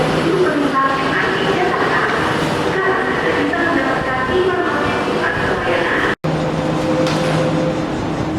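Inside a Jakarta MRT subway car, a steady loud rumble and whine of the moving train fills the space, with a brief dropout near the end.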